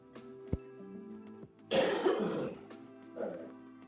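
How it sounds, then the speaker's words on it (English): A single short cough burst up close, followed a moment later by a softer second cough, with a quiet pause before and between. "A little cough."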